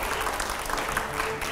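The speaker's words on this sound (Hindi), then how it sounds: "अच्छा जोरदार तालियां हो" Audience applause at a televised panel event, brief dense clapping at moderate volume, steady throughout.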